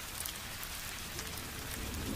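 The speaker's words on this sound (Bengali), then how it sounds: "তাকিয়ে দেখি বাইরে বৃষ্টি পড়ছে" Rain falls steadily outside, a soft, even hiss of drops heard from indoors, faint and continuous with no voices.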